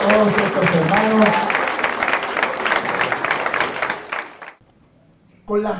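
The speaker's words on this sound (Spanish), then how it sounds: "Le damos un fuerte aplauso, por favor, a todos estos hermanos" Loud audience applause at a church Resurrection gathering holds as dense, steady clapping with some cheering, then thins out and fades to near silence before a voice comes in at the end.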